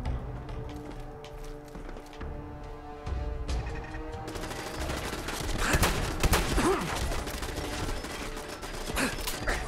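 Automated turrets in Fallout 4 open up in a dense, rapid clatter of gunfire that grows louder and busier partway through, layered over mechanical whirring and creaks, with no talk.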